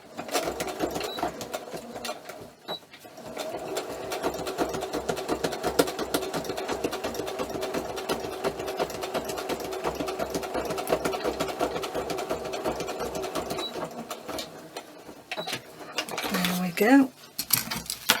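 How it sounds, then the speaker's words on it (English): A sewing machine stitches through paper while making a paper ephemera craft piece. It runs close up as a steady, fast mechanical whir for most of the stretch, then stops, and a few handling clatters follow near the end. "I'm just going to quickly whiz down the sewing machine"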